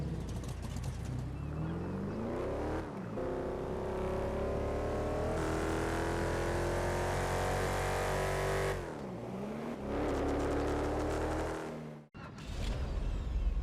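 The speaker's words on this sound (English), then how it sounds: "The Fränken Stange is so satisfying with the idle" The Fränken Stange hot rod in GTA Online idles with a deep, loud, lumpy engine drone, its pitch rising and falling through a few throttle blips and a brief cut near the end, alone with no talk.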